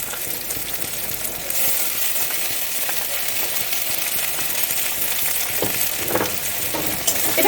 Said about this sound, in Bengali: এবার ভালো করে কড়াইটাকে নেড়ে চেড়ে আদাটাকে পেঁয়াজের সঙ্গে মিক্স করে নেব, ভেজে নেব